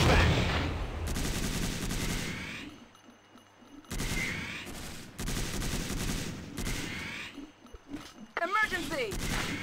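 Bursts of rapid automatic gunfire from the video game Tactical Ops Monster Attack, several loud volleys separated by brief lulls, with a voice calling out between them.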